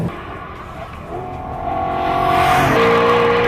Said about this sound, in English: It's really quite different to hear a V8 noise come out of the back of this car.